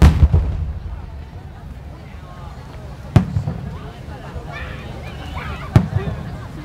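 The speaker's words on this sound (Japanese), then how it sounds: "水中花火専用の船が左から右に走っていって、それぞれのタイミングで打ち込んでいます。" Underwater fireworks launched from boats at the Kamakura Fireworks Festival, three heavy booming thuds a few seconds apart with a rumbling tail, heard alongside crowd murmur and someone speaking.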